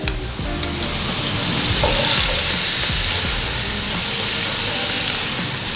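Chopped onions, celery branch, carrots and crushed garlic sautéing in a pan, a steady close sizzle and hiss running throughout with occasional stirring scrapes.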